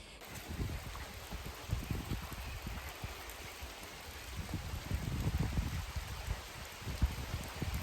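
Heavy rain pours steadily on a village yard in Turkey, a dense hiss dotted with close, irregular drops and patters striking surfaces, with no talking.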